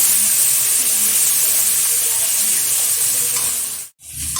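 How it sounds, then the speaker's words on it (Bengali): Ginger and garlic paste frying with turmeric in a pan gives a loud, continuous close-up sizzle and hiss that cuts out abruptly for an instant near the end before resuming, with no talk. "এখন দিয়ে দেবো কিছুটা আদা আর রসুন পেস্ট। খুব ভালোভাবে কষিয়ে নেব।"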